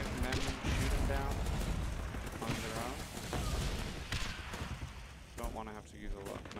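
Gunfire from soldiers in the game Guns Up! crackles and booms in dense, overlapping volleys, with a person talking over it throughout.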